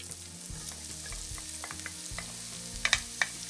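Onions frying in a few spoonfuls of oil in a pan, a steady close sizzle with stirring scrapes and a few sharp spatter pops near the end, no talking.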